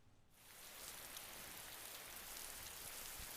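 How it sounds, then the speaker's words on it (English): Steady rain falling outside at night in the game Persona 4, a soft even hiss that begins after a brief quiet moment and continues unchanged, with no speech. "You can hear it raining outside."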